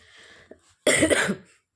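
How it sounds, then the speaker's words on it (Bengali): A single harsh cough rings out close to the microphone after a short quiet stretch, preceded by a faint throat sound. "আর কাশিটা এখনও কমেনি"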